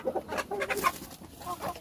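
Rhode Island Red hens in a breeding pen cluck softly in quick, irregular bursts, close by and fairly quiet, with no talking over them.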